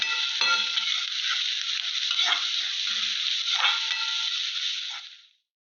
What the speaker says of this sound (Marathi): कांदा लाल होईपर्यंत परतत राहावा